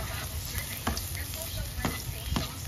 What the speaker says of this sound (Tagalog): Ginisa yung bawang and then sibuyas.